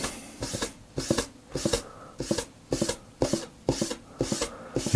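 A Scotch-Brite pad scratches through airbrushed paint on metal in repeated short, rhythmic rubbing strokes, close and dry, roughly two per second.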